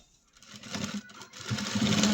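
A sewing machine stitches along the edge of a piece of fabric, its motor whirring at a quiet, steady pace with a brief slowdown in the middle before picking up again.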